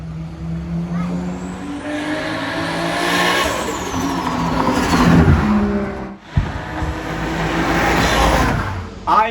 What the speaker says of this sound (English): There is the turbo diesel truck.